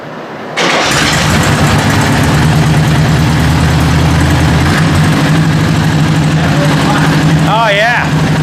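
A 40HP VW engine in a rat rod truck cranks, catches and settles into a loud, steady, rumbling run close by, with a brief high whine near the end.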